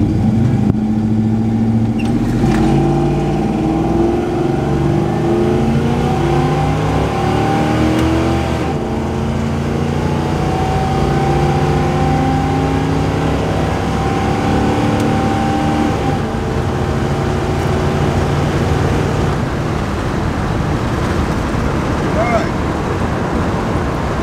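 A slow car pulls through a timed acceleration run, its engine note climbing steadily over the full stretch; the drone stays loud and close throughout, with a few brief voices near the start.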